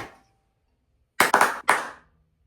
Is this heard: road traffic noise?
no